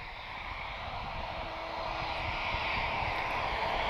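An Azores Airlines A321neo at Lisbon Airport, its jet engines producing a steady, moderately distant roar that slowly grows louder across the few seconds.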